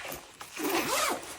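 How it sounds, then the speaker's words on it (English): A zipper is drawn closed along a zippered cover in one short, scratchy pull, close by and fairly quiet. "So let me go ahead and zip this back up."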